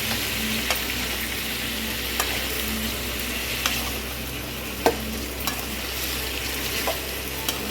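Tomato juice and green chillies frying in oil in a pan, stirred with occasional clicks of a spoon against the pan over a steady close sizzle, with no talking.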